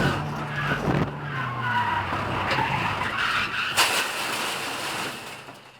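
A track car slides off into gravel, with an engine roar and tyre noise followed by crunching, rushing gravel that fades toward the end.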